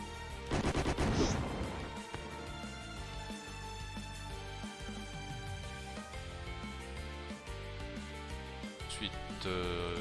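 Cannon fire in the space strategy game Chaos Galaxy II, a loud burst of blasts near the start over a continuous game music score, with a few sharper hits later on.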